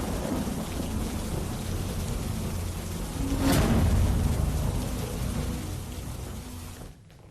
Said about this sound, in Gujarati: ભારે ગાજવીજ અને તેજ પવન સાથે માવઠું થયું